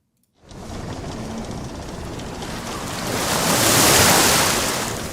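Ocean waves surge and wash continuously, a broad steady roar of surf that swells louder toward the end, with no voices present.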